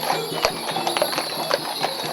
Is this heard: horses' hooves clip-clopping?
yes